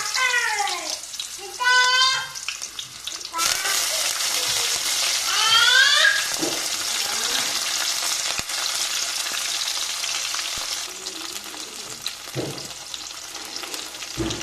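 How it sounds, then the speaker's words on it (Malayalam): Mustard seeds crackle and splutter in hot oil for sambar, a dense steady sizzle running the whole time with a few brief voice-like sounds near the start. "ഇപ്പോൾ കടുക് നന്നായിട്ട് പൊട്ടിയിട്ടുണ്ട്"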